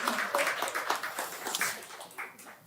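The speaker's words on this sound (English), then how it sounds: "Go ahead and go clap for the girls." A church congregation applauding, a dense patter of many hands clapping at a moderate distance that fades gradually toward the end.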